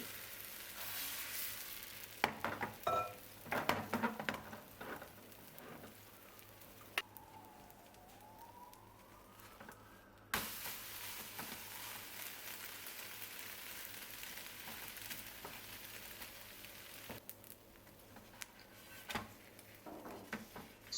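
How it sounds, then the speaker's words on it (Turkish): Thin crepes cooking one after another in a pan give a soft, steady sizzle, with a few sharp utensil clinks early on and no talking. "Tüm kreplerim bitene kadar aynı şekilde pişiriyorum."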